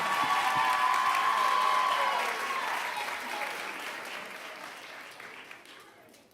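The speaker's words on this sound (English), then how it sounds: "Let's give a round of applause to these students" Audience applause at a high school commencement ceremony for the class of 2025, honoring students recognized for academic achievement; loud sustained clapping that gradually fades over several seconds.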